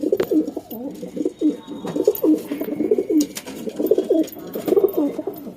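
Pigeons coo in a loft housing low flyer tournament pigeons, continuous overlapping throaty coos close up with occasional faint clicks and rustles, no speech.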